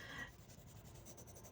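Pencil lightly scratching and rubbing on an art journal page while sketching eyes, faint soft strokes close by.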